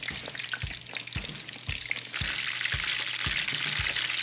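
Breaded schnitzel fries in a pan of hot oil with a loud, continuous crackling sizzle, punctuated by regular soft knocks and sloshes as the oil is moved around; no one speaks.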